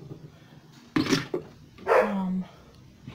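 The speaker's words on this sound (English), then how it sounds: "sorry, that was my dogs." Dogs barking indoors, two short sharp barks followed by a longer whiny yelp, fairly close, no talk over them.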